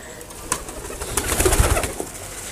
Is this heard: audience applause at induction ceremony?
no